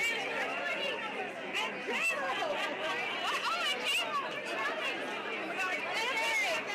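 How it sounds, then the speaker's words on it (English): Dense crowd chatter on a red carpet: a steady, close wall of overlapping voices with no single speaker standing out, holding at an even level throughout. "So this is what the red carpet sounds like."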